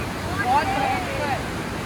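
Rushing river near Manikaran in Himachal Pradesh, a steady broadband roar of flowing water filling the scene, with faint voices and a brief whistle-like tone riding over it.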